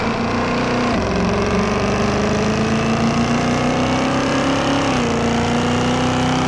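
Engine of a 1970s farm truck in the Farming Simulator video game, droning steadily on a test drive with a loud continuous hum whose pitch dips briefly twice as gears shift.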